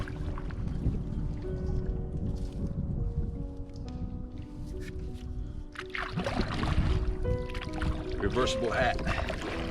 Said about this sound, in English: Comes that wind again.